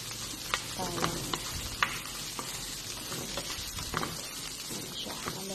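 Indomie noodles with onions are stirred in a hot pan, a busy sizzle and frying crackle with repeated scraping clicks of the utensil, steady and fairly close, no voices.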